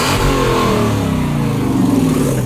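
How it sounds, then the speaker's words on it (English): A 1998 Lexus GS 400 V8 revs steadily on the road, its engine drone rising with a raspy, puffing exhaust leak, loud and close with no talking. "We have a wonderful exhaust leak. Sounds a little bit like a spotted"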